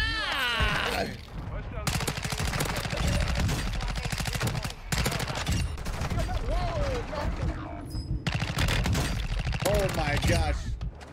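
Rapid automatic bursts from the Chimera SMG in Warzone 2 rattle loudly in repeated strings across the scene, with an excited voice reacting over the shooting.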